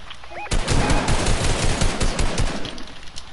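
Gunshots in a video game, heard as a dense, loud stream of rapid automatic fire that begins sharply and runs without a break to the end.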